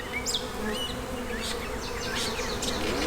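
Honey bees buzz steadily around hive frames being lifted out for inspection, a dense close hum with a few louder individual bees passing near, and no talking.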